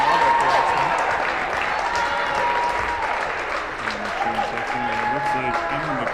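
A cheering section applauds loudly and continuously in the Masciarelli Gymnasium at a varsity girls basketball game between the Canton Bulldogs and the North Attleboro Red Rocketeers. The clapping carries through the whole stretch while a commentator talks over it.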